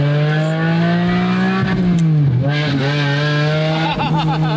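A car engine revs up and down with a rowdy exhaust, loud and close, its tone sweeping and dipping as sputtering burbles crackle between the pulls.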